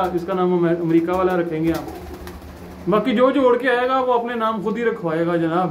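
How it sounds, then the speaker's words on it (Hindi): Pet pigeons coo softly in a loft while someone talks over them almost the whole time. "तो इसी तरीके से है भाई ये कबूतर"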